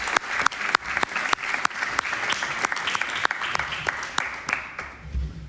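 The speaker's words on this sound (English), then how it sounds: "Give him a warm applause." An audience at a lecture applauds a speaker welcomed to the stage, with a crisp, close run of individual claps over a softer crowd wash that thins and fades near the end.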